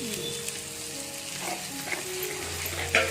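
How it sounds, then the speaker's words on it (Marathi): Sesame seeds are stirred into hot jaggery syrup, a close steady sizzle and bubble with soft scraping, and no talk. "मग तीळ टाकून हलवायचं"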